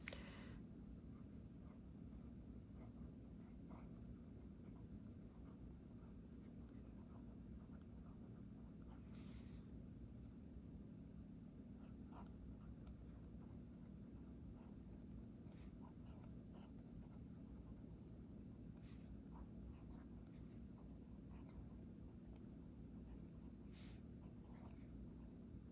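A Visconti Homo Sapiens fountain pen writes on paper, with faint, soft nib scratches and scattered light strokes over a quiet, steady room hiss.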